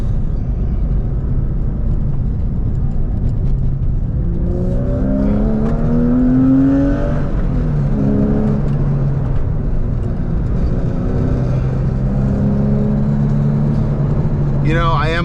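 Porsche sports car driving the Los Flores and Piuma canyon roads in Malibu, its engine droning steadily with rising and falling rev sweeps as it climbs through gears, heard from inside the cabin under continuous road and wind noise.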